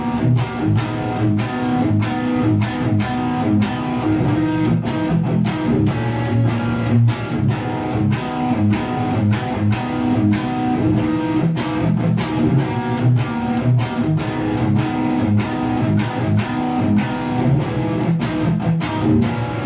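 Electric guitar, tuned down a half step, plays the opening of a song with steady, evenly spaced strummed or picked chords, loud and alone for about twenty seconds.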